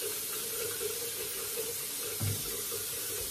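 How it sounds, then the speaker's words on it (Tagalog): A water tap runs into a container for a mouth rinse, a steady splashing flow that holds throughout, with a brief louder gush near the end. "Nilagyan ko siya ng tubig."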